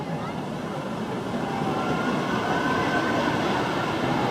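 Front-row ride on the Twister wooden roller coaster at Knoebels in Elysburg, Pennsylvania: a steady rumbling roar of wheels on track and rushing wind that swells louder partway through, with speech mixed in underneath.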